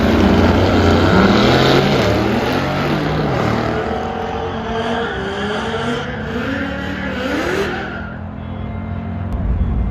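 A Ram TRX pickup and a Mercedes race down a quarter-mile drag strip, their engines roaring loudly and rising in pitch through the gears. The roar stays near, then drops away abruptly at the end.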